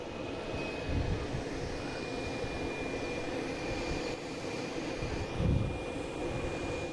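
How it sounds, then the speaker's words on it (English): A JetBlue jet airliner takes off, its engine roar holding as a steady broadband rumble with a faint high whine, swelling slightly twice, no voices. "And we got a JetBlue taking off"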